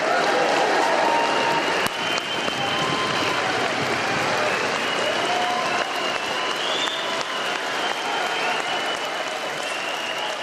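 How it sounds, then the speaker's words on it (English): Party delegates at a conference give enthusiastic, sustained applause during a standing ovation, a thick, continuous roar of clapping with faint crowd noise mixed in. "receiving enthusiastic applause and a standing ovation from delegates and elected representatives"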